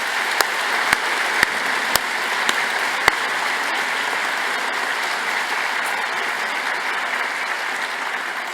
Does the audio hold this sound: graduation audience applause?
yes